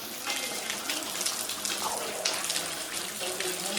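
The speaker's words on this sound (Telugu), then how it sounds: "ఇక్కడ పైన నుంచి వస్తున్నాయి వాటర్, మొత్తం పైన నుంచి వాటర్ వస్తున్నాయి" Water pours down from above at Gauridhara in Srisailam, a steady broadband rushing and splashing that continues without a break across the whole span.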